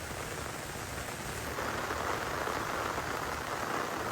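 Heavy rain falls along a village path near a river, a dense, steady hiss that swells slightly partway through, with no voices.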